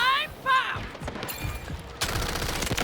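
Automatic gunfire in Delta Force, a fast rattling burst from a spray-type weapon. It comes in loud, dense rips, the last one lasting about a second, with a brief voice and game sounds between bursts.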